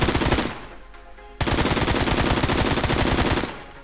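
An AK-47 fires in a Roblox video game: loud, rapid automatic bursts with a short break, then a long unbroken string of rounds.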